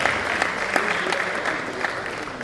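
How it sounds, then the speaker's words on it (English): A conference audience at a medical college's scientific session applauds in a dense, steady wash of many hands clapping, moderately loud and continuous throughout, with no speech over it. "A round of applause for all of them"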